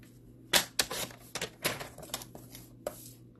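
Paper being cut with a trimmer for scrapbooking, a string of sharp, close snips and clacks in uneven rhythm over a quiet background, with no talking.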